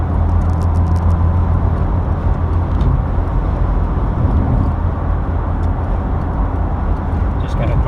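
Steady engine drone and road rumble from inside a moving Vauxhall Mk2 Cavalier, loud and constant throughout with someone talking over it.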